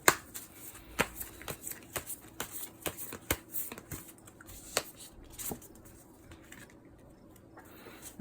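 Monology tarot cards shuffled by hand in a quiet room, a run of soft, crisp riffles and taps at irregular intervals, close and faint, tapering off toward the end.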